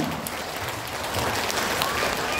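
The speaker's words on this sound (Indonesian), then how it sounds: "beri tepuk tangan sekali lagi untuk Ayah Irwan" An audience at an Indonesian parenting seminar applauds steadily for the speaker Ayah Irwan, a dense, even wash of clapping from a seated crowd that carries on throughout without pause.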